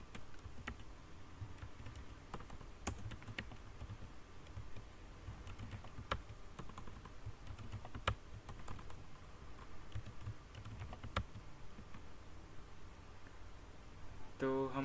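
Someone types Linux commands on a computer keyboard, producing quiet, scattered clicks and keystroke taps at an uneven pace, with a short voice at the very end.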